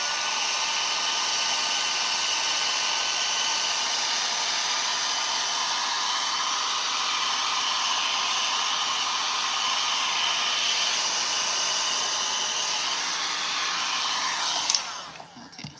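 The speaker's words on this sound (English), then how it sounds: "you can also manipulate the chippiness by getting really down in with the heat gun and really making this paint bubble" A heat gun blows steadily at close range on fusion paint, a loud continuous whooshing roar that holds for about fifteen seconds before cutting off with a brief clatter, no voices.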